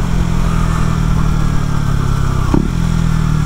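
A KTM Duke 125 motorcycle fitted with an Arrow exhaust idles close by, a loud steady low burble with a brief blip of the throttle partway through.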